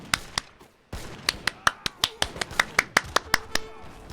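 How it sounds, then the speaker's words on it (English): Sharp claps hit close to the microphone, a couple at first, then a steady run of about a dozen evenly spaced claps. "I'm clapping into the mic."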